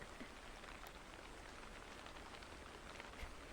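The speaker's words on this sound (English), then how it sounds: "there'll be environmental sounds. Like in this case it's rain." Steady rain falls in a soft, even hiss of countless drops on a surface, continuous and close with a few brighter individual drop ticks, no voices over it.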